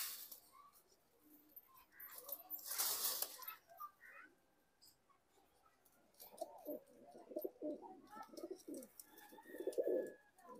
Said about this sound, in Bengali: এক জোড়া কবুতর আছে দেখেন, সাকি জেনারেশন রানিং পেয়ার কবুতর।